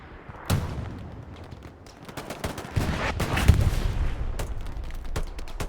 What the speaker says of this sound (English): This artillery behind the house is always so annoying.